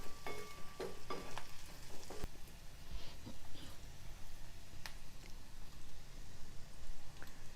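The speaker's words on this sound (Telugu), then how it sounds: "అల్లం వెల్లుల్లి పచ్చివాసన పోయే వరకు వేయించుకోవాలి" Ginger and garlic fry in a pan with turmeric for a ridge gourd peel and moong dal curry, making a soft, even sizzle with scattered stirring clicks near the start and no speech.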